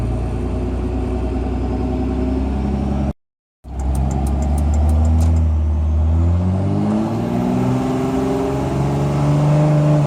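A single cab Cummins diesel truck pulls away and accelerates, its engine droning steady and loud up close, with a brief dropout midway and the pitch climbing toward the end.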